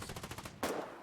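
Rapid automatic gunfire from the video game Foxhole rattles off in a quick burst of about ten shots, followed by a sharper, louder blast and a lone faint shot after.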